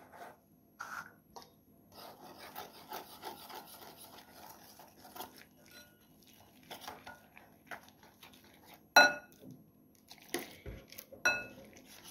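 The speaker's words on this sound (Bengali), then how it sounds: "এবার অল্প অল্প জল দিয়ে দেখুন আমি ব্যাটারটিকে গুলে নিচ্ছি।" A utensil scraping and stirring chana pakora batter in a bowl as water is added bit by bit, giving soft, close, irregular rubbing and swishing strokes with a few sharper clinks against the bowl, with no talk.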